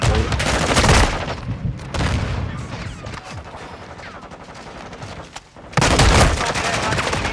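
Continuous heavy gunfire on the Shipment multiplayer map, with dense rapid automatic bursts and explosive impacts, loud and close, easing briefly midway before a fresh intense volley.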